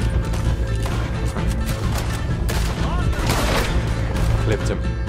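Dense, loud gunfire in a Red Dead Redemption 2 shootout while hunting: rapid overlapping shots and booms run continuously, with someone talking over the din.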